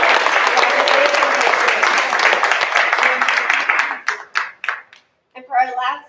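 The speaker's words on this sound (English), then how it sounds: "A round of applause for Nixon Seal." Audience applause at a school board meeting honoring a distinguished scholar, a dense sustained clapping that thins into a few scattered claps and then stops, followed by a brief voice.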